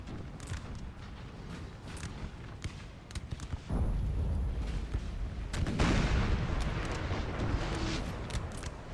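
Massed musket volleys from soldiers in Napoleon Total War, a dense crackling fusillade that swells into a heavier sustained roar of battle, with scattered distant shots throughout.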